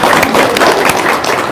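Audience applause at a crowded live event: a dense, steady wash of many hands clapping close by, continuous and fairly loud throughout.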